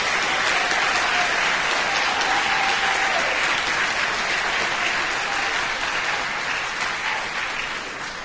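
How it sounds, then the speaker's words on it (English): Audience applause for students at a seventh-grade spring concert fills the room as dense, sustained clapping that stays loud throughout and fades slightly at the end, with a faint voice briefly audible beneath. "I want to give all our students a great round of applause for just an awesome event."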